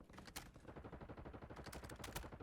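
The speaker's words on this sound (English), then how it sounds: "gunfire sounds really far on this map" Distant automatic gunfire rattles in rapid, steady bursts across a large map in Call of Duty Warzone, faint and far off, with no voices.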